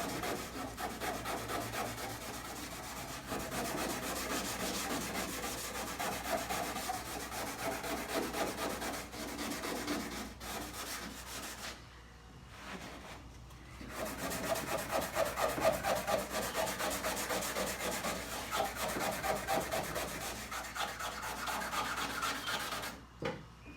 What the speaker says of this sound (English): So I'm going to use this towel now. This is the microfiber towel.